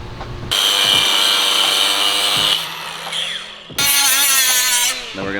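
Power tool cutting the overlong snout of a drivetrain shaft for a Nissan S15, loud high-pitched whining cut running steadily, briefly dropping off, then resuming at full intensity, close and alone.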